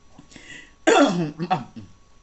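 A person clears their throat twice up close, a rough guttural rasp followed by a shorter one, with a faint voice beforehand.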